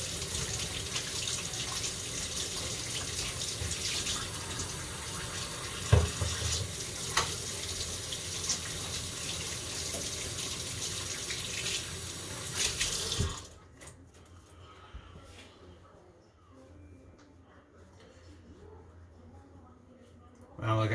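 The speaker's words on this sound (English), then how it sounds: "I'll wash my hands real quick." Running water from a kitchen sink tap pours steadily as hands are washed after handling meatball meat, then cuts off abruptly, leaving a quiet room with faint rustling.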